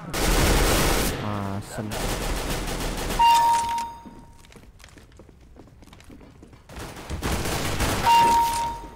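Rapid automatic gunfire bursts in Counter-Strike: Global Offensive, loud and dense at the start and again near the end, with a quieter stretch of footsteps and small game sounds between and a brief spoken word over it.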